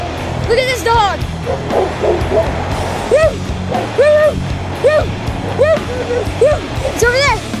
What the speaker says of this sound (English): We found this dog who really hates life.